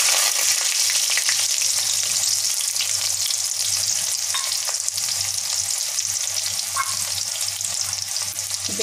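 Onion fries in a pan with dried chilli and a pinch of cumin while a Tamil keerai kootu is cooked, giving a loud, steady, close sizzle that continues without a break and has no talking over it.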